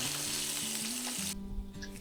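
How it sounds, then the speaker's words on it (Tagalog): Loud, steady sizzling and crackling of fish frying in a pan for breakfast, close by, with a low hum underneath that shifts partway through. "prito muna tayo ng isda for the almusal"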